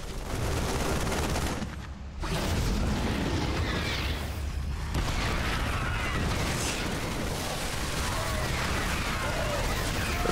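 Tank blown up in a StarCraft 2 match, a dense burst of explosive crackle and rumble in a loud, continuous wash of battle noise, with a brief dip before the blasts roll on.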